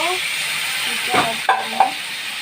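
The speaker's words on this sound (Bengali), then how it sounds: "এবার অল্প করে জল দিব," Water poured into a hot pan of dim alu jhol, an egg and potato curry, sets off a loud, close, continuous sizzle and hiss, with a few clinks from stirring.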